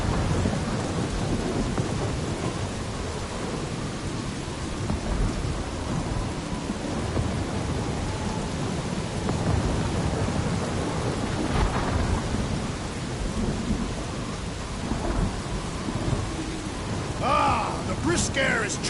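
Thunderstorm with heavy rain in the Guardians of the Galaxy video game: a dense, continuous roar of rain with deep rolling thunder rumbling underneath, steady and loud throughout, with voices talking over it.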